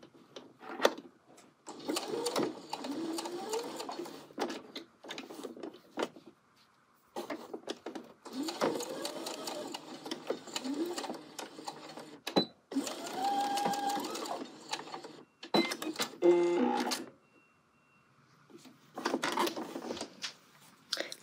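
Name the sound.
sewing machine stitching down a coat tab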